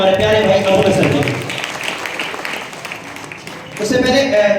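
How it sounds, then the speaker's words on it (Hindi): An audience applauds at a results award ceremony for an arts competitive centre in Purnea. A broad wash of clapping sits between stretches of voiced sound at the start and end, with people talking. "एक बार जोरदार तालियां हमारे प्यारे भाई अबू नसर के"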